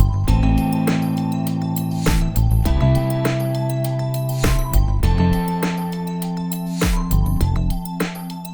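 BOSS RE-202 tape echo delay applied within a full music track, rhythmic beats and sustained tones steadily repeating with echo trails throughout.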